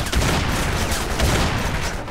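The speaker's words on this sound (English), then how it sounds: "The shotgun is highly polished with a subtle alt-fire mode that narrows the shot spread for picking off more distant targets." Gunfire from the shotgun in the video game Crysis, a dense, loud burst of blasts with booming low end and continuous rumble throughout, overlapping reports blending into a sustained barrage.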